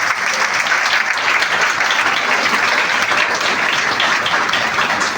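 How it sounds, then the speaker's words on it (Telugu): A church congregation at a prayer house anniversary celebration applauds loudly, a dense, continuous roar of many people clapping together that stays strong and even throughout. "అందరూ గట్టిగా చప్పట్లు కొడదామా?"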